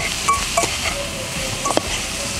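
Sweet and sour pork stir-frying on a cast-iron pot lid, with a steady loud sizzle and a few sharp scraping strokes of a utensil against the metal.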